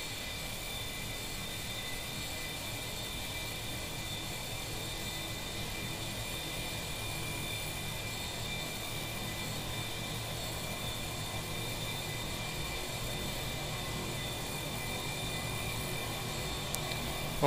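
An A-4E Skyhawk jet engine held at full throttle in DCS World, producing a steady, even roar with a high whine running unchanged throughout, with no talk.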